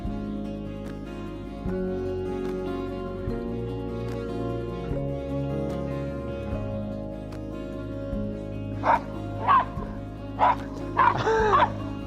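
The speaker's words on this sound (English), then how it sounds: "When we stop to film, the dogs, they're like kids, they get bored and they start playing games, and then Mabel has a mad attack" Dogs, including one named Mabel, grow bored during a stop on a countryside walk and start playing, with a few short yips and whimpers popping up late over a steady low background hum.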